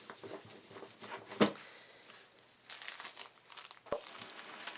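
Vellum papers and envelopes are handled up close, with soft crinkling and rustling, a sharper crackle midway and a brief knock near the end, fairly quiet and with no talking.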